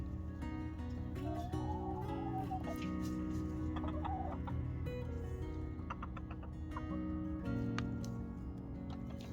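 Sicilian Buttercup hens in a backyard flock clucking and murmuring near and far, with scattered short calls and rising squawks over a low steady background hum.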